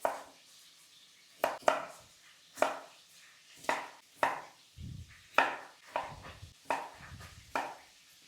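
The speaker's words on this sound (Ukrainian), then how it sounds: "Тепер, друзі, нарізаю картоплю." A knife chops through potatoes on a cutting board, about a dozen crisp, close thuds at an irregular, unhurried pace with no talking.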